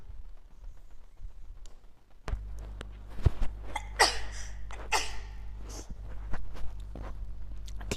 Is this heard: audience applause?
no